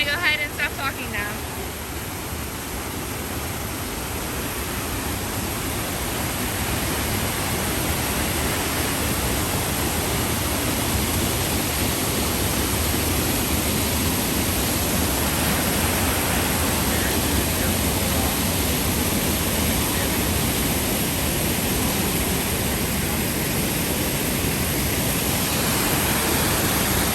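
Kaiate Falls, a New Zealand waterfall, roars with loud, steady rushing water, a dense broadband wash that stays constant and close throughout with no voices.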